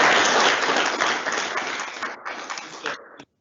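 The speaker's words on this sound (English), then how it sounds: "maybe just give Clay a round of applause" Attendees at a park board meeting giving a round of applause, a dense burst of clapping that thins out into a few scattered claps before stopping abruptly.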